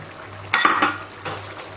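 Cooking wine splashes into a hot pan of spicy beef sauce, giving a sudden sizzling hiss that fades, with a second smaller sizzle a moment later.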